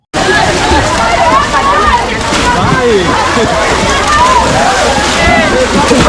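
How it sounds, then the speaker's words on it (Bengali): People splashing and swimming in a crowded outdoor swimming pool at an amusement park during Eid, a loud continuous wash of sloshing water mixed with a dense babble of voices and shouts. "এরা মনে হয় জীবনে কখনো সাঁতার কাটেনি আর এই সুইমিং পুলে এসে জন্মের সাঁতার কাটছে দেখুন"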